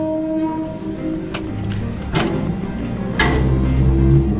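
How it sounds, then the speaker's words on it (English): Low metallic scraping and rumbling with a few sharp clanks, like a garbage can lid being rubbed and shifted, steady and fairly close. "It's a garbage can lid being manipulated."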